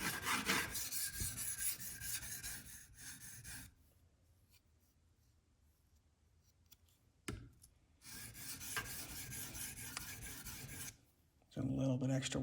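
A CPM-10V steel Spyderco Paramilitary 2 blade is worked on a sharpening stone under light pressure, giving repeated raspy strokes in bursts separated by quiet pauses, close and fairly loud.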